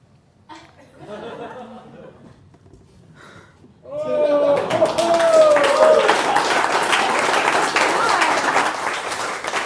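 After a few seconds of quiet murmuring and chuckles, an audience breaks into loud, sustained applause for a woman named Vanessa, with a whoop rising over the dense clapping.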